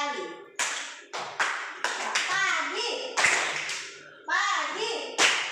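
A primary classroom of children does the tepuk pagi morning clap: sharp, separate hand claps ring out one after another, close and clear, between a teacher's and children's voices.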